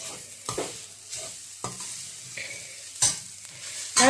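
Grated coconut stirred and roasted golden brown in a pan for a dates laddu sweet, with a spatula scraping and clinking in close, irregular strokes over a faint sizzle.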